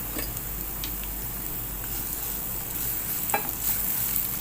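Small onions sizzling on a tawa, a steady frying hiss with occasional soft clicks and stirring scrapes.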